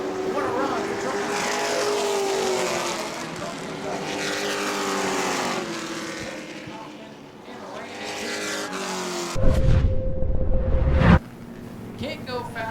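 Race cars and trucks roaring past in a heat race at New Smyrna weekly racing, engines rising and falling as they pass, one very loud close burst near the end, with a commentator's voice over the noise.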